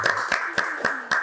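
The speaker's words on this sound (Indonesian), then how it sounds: "Kita kasih tepuk tangan dulu" Several hands clap in a slow, evenly spaced rhythm for a football club coach on a podcast set, about five distinct claps in a second, close and fairly clear.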